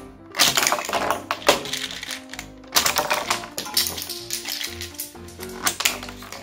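A Bottleman BOT-10 Dragon God toy launcher fires plastic bottle caps in a series of sharp, close clicks and snaps in irregular bursts, with faint tonal music underneath.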